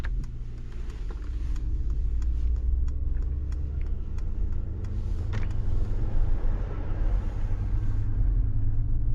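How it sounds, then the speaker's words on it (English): Synthetic combustion-engine sound from a Mercedes G580 electric SUV, a steady low droning rumble with a faint whine, continuous and fairly loud from the cabin, with no talk over it. "it is the first car, we can say, in the Mercedes lineup which has the synthetic sound for the combustion engine"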